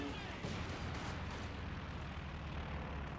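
Explosions and gunfire from a Stuka dive bomber attack in Company of Heroes 2 on the Eastern Front, a dense, continuous rumble of blasts and shots with no clear gaps, played loud throughout.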